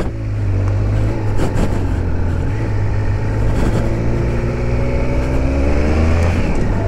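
A 2021 Triumph Speed Triple RS motorcycle accelerating hard, its loud engine note rising steadily in pitch through the gears with a constant rumble underneath.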